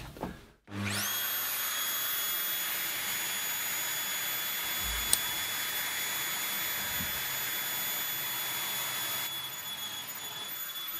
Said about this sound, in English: So next up we'll use the Doweller.